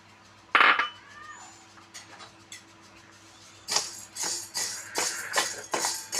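Wheat grains are poured into a hot kadhai for roasting: a sharp clatter at the start, then a quiet stretch, then a dense run of rattling, scraping grain sounds close by.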